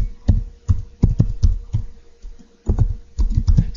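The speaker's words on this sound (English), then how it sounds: "So I'm going to type in student name." Close keystrokes on a computer keyboard while spreadsheet column headers are typed into Excel, arriving as quick irregular bursts of clicks with one short pause midway, with no voice over them.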